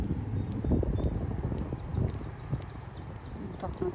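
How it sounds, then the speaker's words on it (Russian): Small birds chirp and twitter outdoors in Icod de los Vinos, Tenerife, with short high calls repeating through the clip over rustling and footsteps, while a person talks nearby. "Птички поют, видите?"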